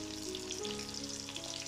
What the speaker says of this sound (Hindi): मैरिनेट की हुई फ़िश को उसमें आराम से छोड़ दें